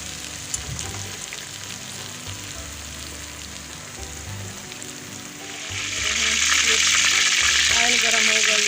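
Finely crushed onion hitting hot oil in a cauliflower-and-onion kofta pan, a steady frying hiss that swells louder near the end as the onion goes in, with faint stirring clicks underneath.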